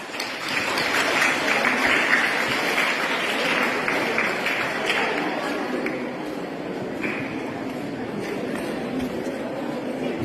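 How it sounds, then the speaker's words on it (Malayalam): A school crowd applauds students at a higher secondary school entrance festival in Kerala, a dense, steady wash of clapping that swells early and then slowly thins over about ten seconds. "ഒരു ക്ലാപ്പ് കൊടുക്കാം"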